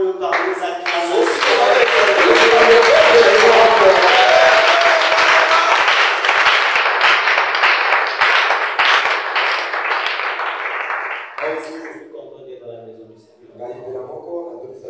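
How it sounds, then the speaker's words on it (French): A church congregation applauds and cheers loudly for several seconds, the dense clapping and voices swelling then fading, followed by a quieter moment of scattered sound. "Exprimons-le par nos acclamations."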